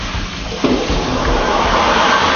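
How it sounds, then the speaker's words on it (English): Water starts running on a crystal-cutting machine, a soft hiss that jumps up suddenly and then flows in a steady splashing rush. "All he's doing now is starting the water"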